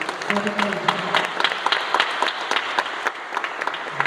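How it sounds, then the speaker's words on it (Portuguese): A church congregation claps loudly with distinct individual claps in the mix, while a voice talks over the applause. "pode bater palma, pode aplaudir."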